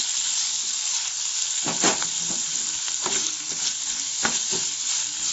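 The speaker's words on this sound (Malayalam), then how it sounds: "ഇത് നന്നായി ഇളക്കി കൊടുക്കുക." Beef fry is stirred in a hot pan, its continuous sizzle broken by several scraping strokes of the spoon, with no one talking.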